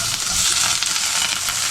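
Onion hits melted butter in a hot pan with a loud, close, continuous sizzle and crackle that holds steady for under two seconds, with no voice over it.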